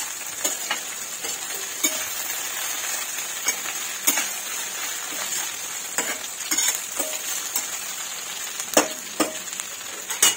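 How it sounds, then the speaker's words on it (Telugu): Okra pieces fry in oil over a medium gas flame, a constant close crackling sizzle punctuated by regular scraping stirs and light clinks of a spatula against the pan. "టూ మినిట్స్ అలా నూనెలో వేయించిన తర్వాత నెక్స్ట్ ప్రాసెస్ చేసుకున్నాం."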